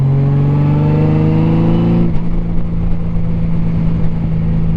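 A Honda Goldwing GL1500 motorcycle engine pulls hard in fourth gear, its steady low hum rising in pitch, then dropping back to a rougher drone after a shift in throttle, close and loud throughout with wind buffeting.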